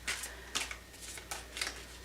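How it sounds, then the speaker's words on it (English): A deck of tarot cards being shuffled by hand in quick soft riffling bursts, four or five short rustling passes, faint and close with no talking. "See if I can shuffle without them flying all over the place."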